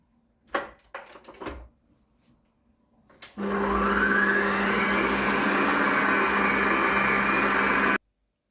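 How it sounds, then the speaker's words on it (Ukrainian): After a few clatters and knocks, an electric hand mixer switches on, whipping sugar, and whirs steadily and loudly for several seconds before cutting off abruptly. "І включаю міксер, щоб збивав."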